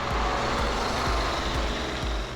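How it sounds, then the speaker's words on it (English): The two-cylinder range extender engine of a 2018 BMW i3s runs as a generator, giving a low, continuous rumble with a faint rhythmic pulsing, heard from moderately close and alone. "The two-cylinder only runs a generator."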